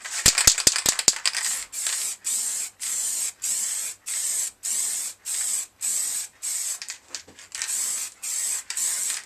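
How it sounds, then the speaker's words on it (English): Repeated hissing bursts from an aerosol can of tinting lacquer sprayed onto a Suzuki Bandit 1200S motorcycle screen, about a dozen short sprays in a steady rhythm with brief pauses, close and fairly loud, preceded by a quick rattling shake. "Right, let's get spraying."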